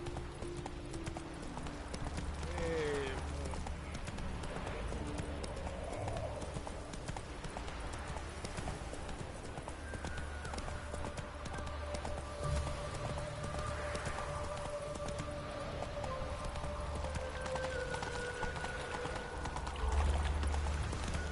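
Geralt's horse Roach from The Witcher 3 trots with steady clip-clop hooves over the whole stretch, close and even, with faint game ambience and a brief snort.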